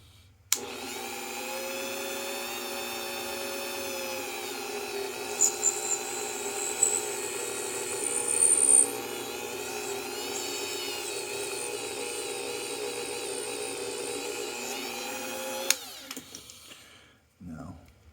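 A high, whining drill runs steadily for about fifteen seconds with slight pitch wavers while drilling a lock key pin, then stops abruptly.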